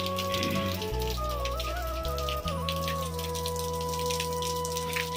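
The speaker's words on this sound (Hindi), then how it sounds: "तो देखि पारथिबे प्रबल वर्षा होची।" Heavy monsoon rain falls on a village in Odisha, a steady, close patter of drops hitting surfaces throughout, with sustained whistling tones running underneath and no one speaking.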